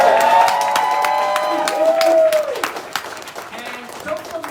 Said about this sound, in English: Another special round of applause to our readers, Amalee, Sienna, Eden,